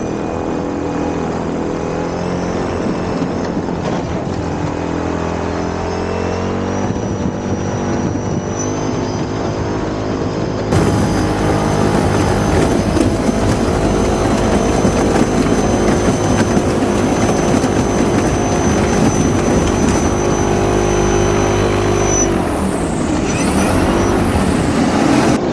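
Electric airboat propeller at 15% throttle on ice, a loud continuous whirring drone with a steady tonal whine that jumps louder and brighter midway and then shifts in pitch near the end.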